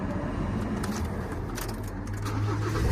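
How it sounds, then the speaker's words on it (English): A 2018 Ford Transit tipper's engine cranks and catches after the immobiliser tag is pressed, then settles into a low, steady running rumble close by. "As you can see, the vehicle starts and it is on and ready"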